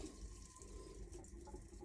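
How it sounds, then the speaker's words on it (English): A marine toilet pump on a boat flushing after a clog was cleared, a steady close rushing, gurgling water flow running continuously with a faint mechanical whine underneath and no talk. "Push the button, it goes down. You can hear the pump working."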